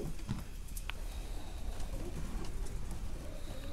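A domestic pigeon coos softly against steady background noise, its low murmuring calls mixed with faint, brief chirps.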